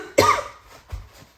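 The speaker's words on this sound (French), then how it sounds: "Désolée pour la toux" A woman's single sharp, close cough followed by a softer second cough and a faint breath.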